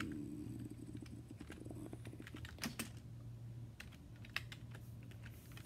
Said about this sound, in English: I'm gonna type that in chat.